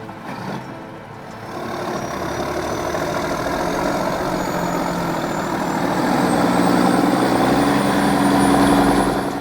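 A Mack truck engine growls in a steady, heavy rumble that swells gradually and holds loud throughout, with no talk over it.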